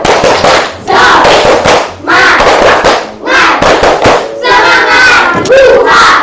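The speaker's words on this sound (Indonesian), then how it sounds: "Tepuk semangat." Children in an Indonesian classroom perform a rhythmic spirit clap chant, loud bursts of shouting voices and sharp claps in repeated phrases with brief pauses between them.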